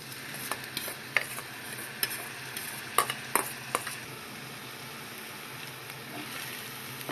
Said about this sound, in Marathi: आता शिजलेला राईस मी त्याच्यामध्ये मिक्स करून 1 ते 2 मिनिटं चांगला परतून घेणार आहे।